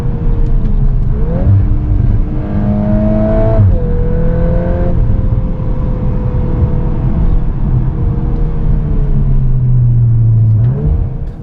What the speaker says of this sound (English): The power plant is a 2-liter turbocharged engine, and it makes 315 horsepower and 295 pound-feet of torque at the crank.